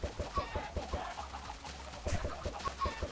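Minecraft chickens from an egg-hatching farm give quick repeated clucks and short bird calls in an uneven rhythm, fairly close and with no talking.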